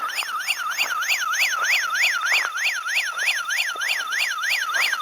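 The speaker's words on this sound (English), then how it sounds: "There's just this little motion sensor, and then this little alarm." Small motion-sensor bear-deterrent alarm mounted at a camper van's rear hatch, shrieking a loud, rapidly warbling electronic siren in a fast, even up-and-down sweep that repeats steadily throughout, close and alone.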